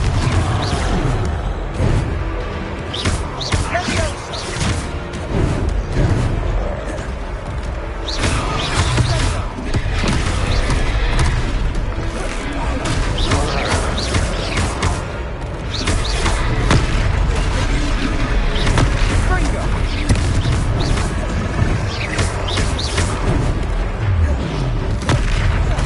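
Repeated Confringo blasting-spell explosions in the Hogwarts Legacy video game, loud booming bursts over a continuous dense battle din of crashes and effects, with voices speaking now and then.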